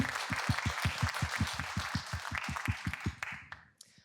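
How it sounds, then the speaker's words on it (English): A symposium audience in a museum gives a round of applause after two speakers. The clapping is dense at first over a regular thumping pulse, then thins and fades to a few scattered claps near the end. "Please, everyone, give them both a big round of applause."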